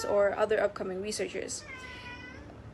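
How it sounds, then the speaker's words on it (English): A pet cat meows several times after a brief stretch of a person talking, the cries rising and falling and then trailing into a thinner, fading meow. "Sorry for my cat."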